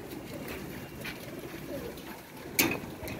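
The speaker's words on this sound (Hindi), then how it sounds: "कलंदरी कबूतर माशाल्लाह देख रहे हैं दोस्तों" Kalandari pigeons, red-eyed show birds, coo softly and repeatedly at close range, with a brief louder flutter-like burst near the end and no talking.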